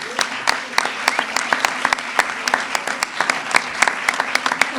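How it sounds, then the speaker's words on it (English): Applause from an audience at a governor's press conference for the signing of housing legislation, dense clapping at a steady level with sharp individual claps poking through, and some voices mixed in beneath it. "Can we please give a round of applause to Ms. Wendy Carrillo?"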